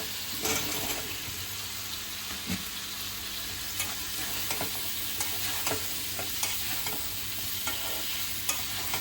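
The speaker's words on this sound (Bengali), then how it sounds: "এখন আমি দিয়ে দিব পটল, বেগুন, আলু।" Pointed gourd, eggplant and potato fry in a pan of cooked-down spice paste, giving a steady soft sizzle punctuated by repeated scraping and clinking strokes of stirring.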